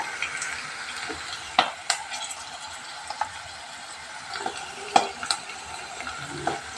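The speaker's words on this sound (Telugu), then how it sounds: "ఆనియన్స్ అనేది వేరంగా ఫ్రై అవుతాయి." Onions frying with green chillies and salt in a pan while a cook makes tomato rice, a soft steady sizzle under intermittent scraping and clicking stir strokes, no talking.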